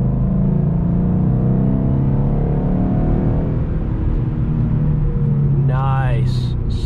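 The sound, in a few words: stock 2012 Ford Mustang GT 5.0 accelerating in third gear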